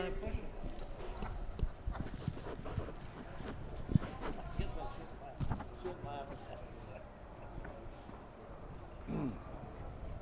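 Hooves clip-clop as three-year-old filly pacers approach the mobile starting gate at a harness race, faint and distant beneath a track announcer's voice and wind noise.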